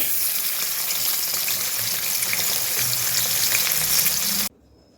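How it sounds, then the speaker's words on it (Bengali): Eggs fry in a kadai with a little oil, salt and turmeric, making a loud, continuous crackling sizzle that stops suddenly, leaving near silence. "এবার একে একে আমি ডিমগুলোকে ভেজে নেব।"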